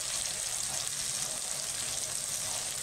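Kashmiri chilli powder, cumin powder and turmeric powder fry in hot oil in a pan with a steady, bright hiss and crackle close up, continuous and without talk.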